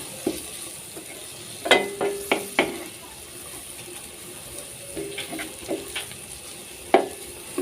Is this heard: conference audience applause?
no